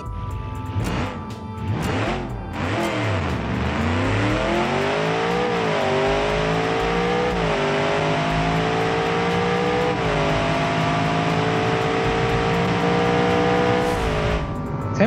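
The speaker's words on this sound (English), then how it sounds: "Naturally aspirated V8." A naturally aspirated V8 in a car with a carbon fiber chassis, in the BeamNG.Drive driving game, revs hard and climbs through several gear changes. The drag-race run is loud and close, with a rising engine whine and no talking.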